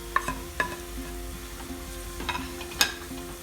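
Chopped onions fry with potatoes in a pan for a potato egg omelette, a soft steady sizzle broken by a few sharp clinks of a spatula stirring.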